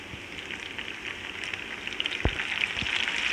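Tomatoes and green chillies frying with browned onions in a pan for a masoor dal meal, a soft, close, crackling sizzle with a few faint taps, steady and quiet with no talking.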